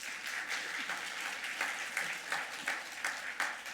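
Church congregation at a special early-morning prayer service applauding, a soft, distant, even patter of many hands clapping with no voices over it.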